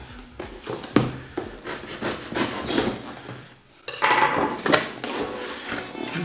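A kitchen knife scrapes, slices and clinks while opening a box of packaged lighting gear, giving soft irregular rubbing and tapping sounds at close range with brief sharper knocks.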